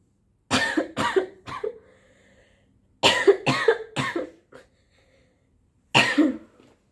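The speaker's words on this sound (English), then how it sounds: "Yeah, I ended up coughing." A fit of coughing: three harsh coughs in quick succession, a pause, three more, then a single final cough, close and loud with no talking.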